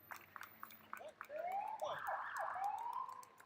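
Clay County Ambulance Services ambulance sounding its siren during the Clay Center Christmas Festival parade, rising and falling wails that swell to a steady, fairly loud pass after a few short yelps, with crowd ambience beneath.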